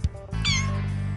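A house cat lets out a single clear, drawn-out meow, loud and close over a steady low hum.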